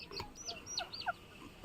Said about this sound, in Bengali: এখানে আমরা রেখেছি এক জোড়া পাহাড়ি মোরগের সাথে গলাচিলা মুরগি হোয়াইট কালারের